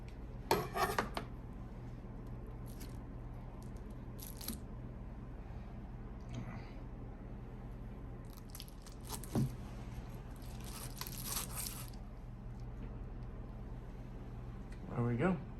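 A knife cuts the tough core out of a pineapple, making a few short scraping strokes against a board, spread out under steady talking.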